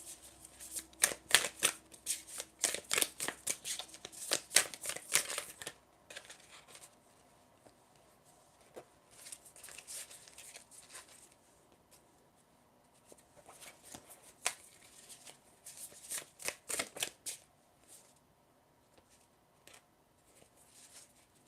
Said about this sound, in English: I'm going to shuffle to see what else comes out for you.